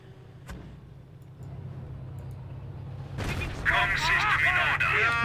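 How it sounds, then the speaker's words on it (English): Mortar fire in a Company of Heroes match, a low rumbling blast swelling in midway over steady battlefield drone, followed by crackling debris and fire while a commentator talks over it. "Mortar is getting some good hits there."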